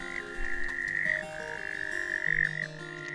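Male Littlejohn's tree frogs call together in a loud chorus, with overlapping trilling notes and lower pulsing calls layered densely and continuously close by.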